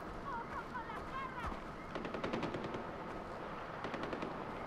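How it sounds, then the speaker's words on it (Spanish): Bursts of automatic gunfire in the Far Cry 4 video game, with rapid rattling volleys at a middle distance and a few rounds spaced in between over game ambience. "¿Quién coño está disparando ahí arriba, tío?"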